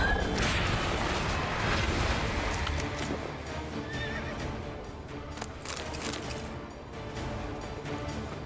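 A horse in The Witcher 3: Wild Hunt Blood and Wine whinnies loudly at the start, followed by a run of clip-clopping hooves and scuffing movement that fades slightly toward the end.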